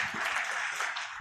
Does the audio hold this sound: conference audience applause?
yes